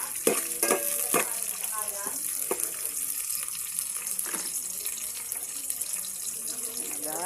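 Vegetables sautéing in a pan, with a steady sizzle and scraping stirs of a utensil close by, plus some splashing water from a kitchen tap in the background.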